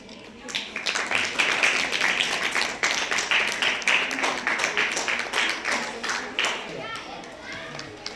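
An audience at a school event in a government girls' school claps for a teacher: loud, dense applause rises quickly, holds steady for several seconds, then thins out and fades.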